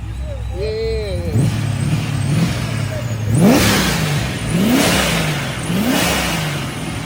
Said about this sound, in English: The Pro Charger YSI, that's a 350 small block out of a 91 Impala.